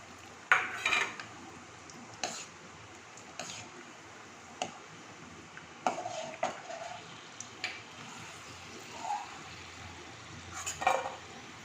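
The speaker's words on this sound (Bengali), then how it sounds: "প্রথমে আমি কাজু বাদামগুলোকে ভেজে নিচ্ছি" Cashew nuts are fried in a pan, heard as sparse clinks and scrapes of a utensil against metal every second or two, with only a faint sizzle in an otherwise quiet kitchen.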